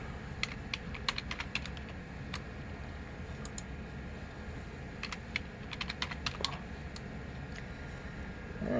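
Someone types on a computer keyboard with steady, rapid key clicks at close range, some keystrokes sharper than others, over a constant low hum of server fans.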